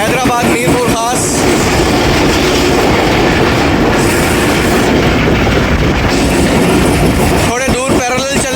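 A Pakistan Railways train pulls away from Allahdin Hussain station beside the Hyderabad–Mirpur Khas branch line, giving a loud, steady rumble with a rhythmic clickety-clack of wheels on rail joints; a voice is heard briefly at the start and end.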